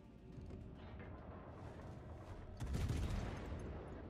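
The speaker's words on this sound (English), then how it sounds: "torpedo hit on something" In the World of Warships naval battle game, a torpedo strikes a ship with a sudden heavy burst of booming noise partway through. It rises above a steady rumble of game ambience and crackling battle sounds.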